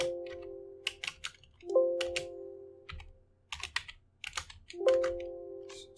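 Rapid bursts of typing on a computer keyboard during a Python coding lesson, keys clicking in irregular clusters with brief pauses and a low steady hum beneath.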